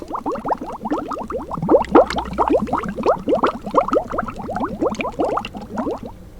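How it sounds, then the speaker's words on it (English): Bubbles blown into a cup of coffee make a rapid, bubbly gurgling that churns for several seconds, close up and uneven, with no talking over it. "Cue the blowing bubbles sound."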